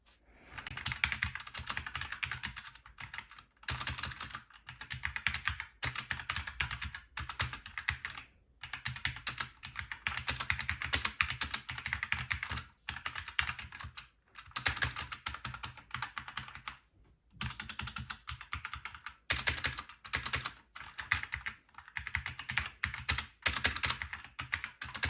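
Rapid typing on a MARVO KG962 60% gaming keyboard with red switches, close and clear, bursts of keystrokes broken by short pauses, with no talking.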